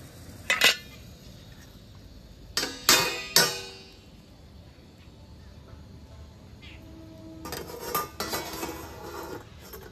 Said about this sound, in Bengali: এবার আমি চাপাটা খুলে নেব, যে কেকটা কি অবস্থায় আছে একটু দেখে নেব।